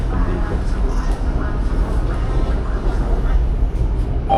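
Train running on rails in Thailand, a loud steady rumbling roar with rattling carriage noise filling the whole stretch without breaks.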